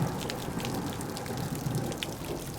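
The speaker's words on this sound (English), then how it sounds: "Let's pour some resin." Epoxy resin poured for a woodworking resin pour, a thick-set 3-to-1 mix, gives a steady close wet trickling and splashing rush with fine droplet patter, continuous for a few seconds with no talk.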